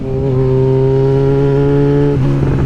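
A 2009 Yamaha FZ6R motorcycle fitted with a new exhaust idles with a steady, loud, close-up engine drone, then blips the throttle briefly near the end. No one talks.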